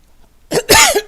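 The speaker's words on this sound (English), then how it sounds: "I don't know why I am coughing so much tonight" A woman doing a crafting session coughs close by, a quick burst of three or four harsh, loud coughs after a moment of near silence.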